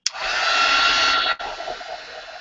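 A hair dryer blows steadily over an art journal page, starting abruptly with a loud continuous whoosh that dips briefly midway and then carries on, with no talking.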